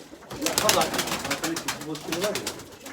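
Domestic breeding pigeons coo in a loft, low rolling calls repeating through the clip while someone talks over them.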